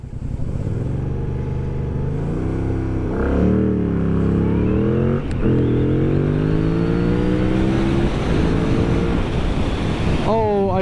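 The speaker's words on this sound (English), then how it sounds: "I'm gonna try and launch this bike" A 2025 Yamaha MT-07 launches from a standstill and accelerates hard, its engine note climbing in pitch through several quick upshifts, loud and close with strong wind rush throughout.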